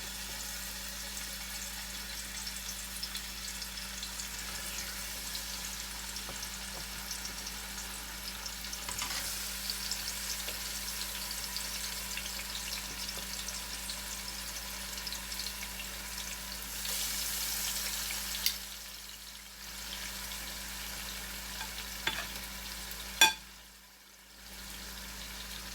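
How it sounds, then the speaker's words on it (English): Oxtails sizzle steadily in hot coconut oil, a continuous crackling fry with occasional louder pops and stirring clatter near the end, no talking. "our coconut oil is heated up, so now we're going to get our oxtails in there"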